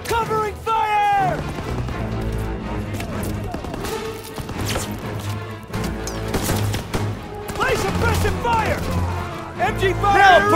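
Machine gun fire rattles through a Call of Duty WWII battle on Hill 493 in dense bursts and booming impacts, mixed with shouting soldiers talking over the gunfire.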